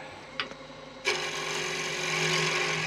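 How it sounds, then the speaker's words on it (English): A steady, bright scraping hiss of a spindle gouge cutting wood on a lathe, turning a small box, starts abruptly after a second and continues evenly, preceded by a couple of faint taps. "Grab my little spindle gouge again."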